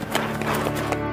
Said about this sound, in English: he heard the carriages approaching